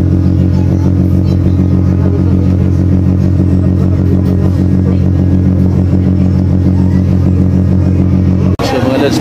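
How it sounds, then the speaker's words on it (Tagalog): Motorcycles rumble loudly at close range as they roll onto a ferry on a sea crossing from Leyte to Bacolod. Their engines drone continuously and overlap into a thick, steady growl, then cut off with a brief clatter near the end. "So mga lods, papasok na yung mga motor."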